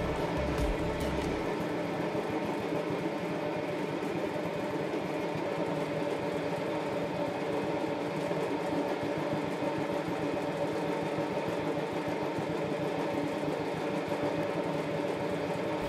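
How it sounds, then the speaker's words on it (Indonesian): A spinning oil dryer whirls fried food to remove the oil, giving a steady, loud mechanical hum and motor drone that runs unbroken throughout with no voices. "Kata Ibu Risda, proses pengeringan ini dilakukan sampai tidak ada minyak yang menetes lagi."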